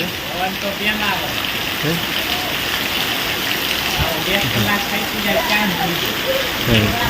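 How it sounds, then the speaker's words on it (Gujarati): Heavy rain falls in a steady, dense wash across the whole stretch, with voices talking intermittently over it. "જોરદાર વરસાદ ચાલુ"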